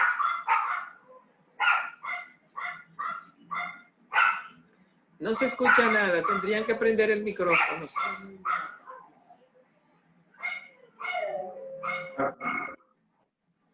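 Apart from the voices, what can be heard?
dog barking at home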